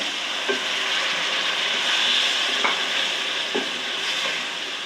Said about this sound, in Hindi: चनों को भून लेती हूँ तकरीबन 3 से 4 मिनट मसाले में।